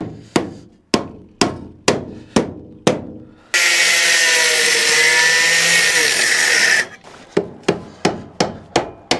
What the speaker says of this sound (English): then I'm getting the angle grinder in there and just trying to loosen that off